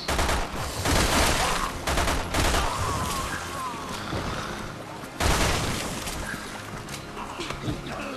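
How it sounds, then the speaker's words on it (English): A burst-fire machine pistol fires in Resident Evil 6 Mercenaries mode. Rapid, loud bursts of shots repeat over busy game sounds, with voices present at times. "it is a burst, it is a burst fire pistol. Machine pistol, sorry."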